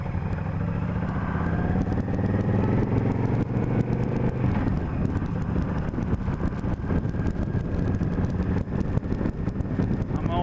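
A motorcycle rides in second gear on wet roads at night, its engine giving a steady droning rumble mixed with road and wind noise and occasional clatter, continuous and close.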